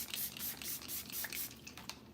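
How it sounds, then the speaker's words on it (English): Makeup setting spray misted onto the face, heard as a few short breathy hissing bursts in quick succession, close and soft, with no talking. "we're gonna take that setting spray one last time"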